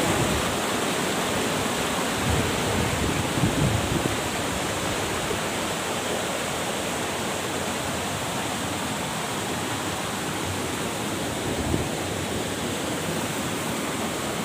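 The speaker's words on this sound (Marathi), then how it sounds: "या ठिकाणी धबधब्याचं जे काही रौद्र रूप आहे" Dugarwadi waterfall roars in a steady, loud, unbroken wash of rushing water heard close up, with no voices over it.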